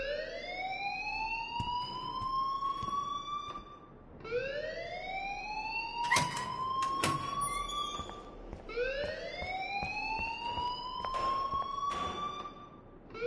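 An alarm blares in the video game Life is Strange, a rising, wailing electronic siren tone that repeats in three long sweeping cycles, loud and continuous, with faint clicks and thuds beneath and no speech.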